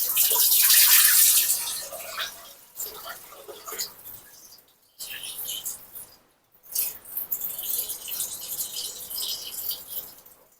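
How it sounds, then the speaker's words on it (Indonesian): Soaked rice being washed in water for Padang lemang, with splashing, swishing and pouring in uneven bursts and two short pauses, fairly close and moderately loud, occasional voices underneath. "Kita cuci 2 sampai 3 kali ya"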